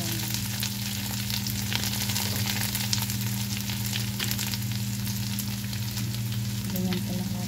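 Bamboo shoots stir-fry with garlic in a pan, a loud steady sizzle filling the clip close up, with a low hum underneath and occasional stirring scrapes.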